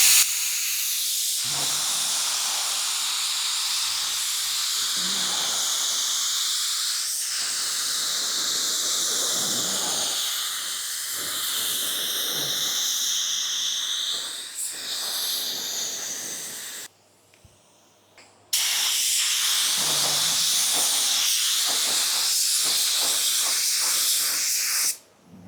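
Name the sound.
spray gun spraying clear coat with high air pressure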